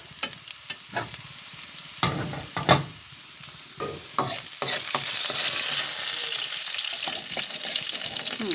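Frying in hot oil in a pan for data shak greens, starting with sharp intermittent clatters and scrapes of stirring, then building into a continuous close sizzle.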